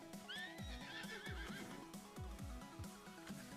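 Horse rearing and neighing in Red Dead Redemption 2, a loud shrill whinny over rhythmic heavy hoof stamps, close and alone with no talk.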